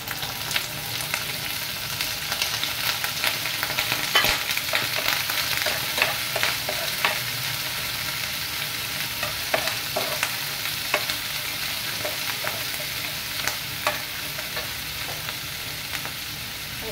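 Onion, garlic and small shrimp fry in a pan with a steady close sizzle, scattered sharp pops and the occasional scrape of stirring, continuous and without speech.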